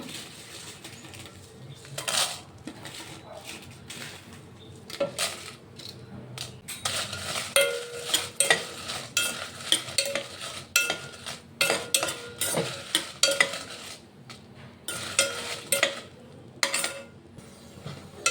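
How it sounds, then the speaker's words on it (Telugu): Dried red chillies fry in oil in a pan with a soft background sizzle. Bursts of spatula scraping and metallic clatter become busier and louder through the second half. "ఇప్పుడు ఆయిల్ పోసేసుకున్నాను. ఎండుమిర్చి ఫ్రై చేస్తాను."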